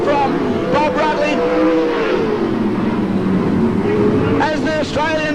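Race cars lap a circuit while the number 88 car leads, their engines holding a loud, steady drone with rising and falling revs that surge again near the end.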